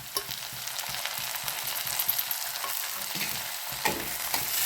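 Tomatoes tipped into onions browning in a pan for a simple green bean (farasbi) bhaji, with steady close sizzling and repeated scraping stirs of a spoon against the pan.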